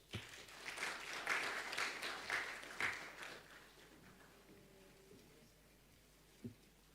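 At a nurses and midwives conference, the audience claps in a rolling burst that swells, then tapers off into quiet room tone, with one last clap near the end.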